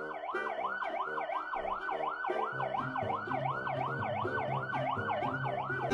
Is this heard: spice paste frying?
no